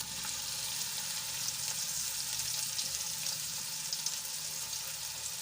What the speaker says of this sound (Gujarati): હવે ડુંગળીને આપણે એકાદ મિનિટ સુધી તેલમાં સંતળાવા દઈશું